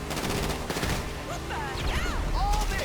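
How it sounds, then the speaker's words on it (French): Rapid bursts of gunfire from a police shootout in a video game, loud and close, with excited players talking over the shots and game sound effects. "Enzo, vas-y, explose. Voilà, t'as bien visé"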